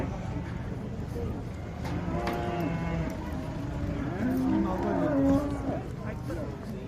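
Cattle moo at the Karakol livestock market in the morning, several drawn-out calls rising over a steady crowd murmur and market noise, with people talking nearby.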